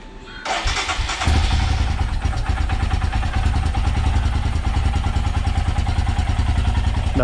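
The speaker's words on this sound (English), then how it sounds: "I'll just run the bike on idle for about a minute" A motorcycle engine cold-starts, catching with a sharp burst, then settles into a loud, steady, close idle with a rapid even pulse and mechanical clatter, running alone without any voices.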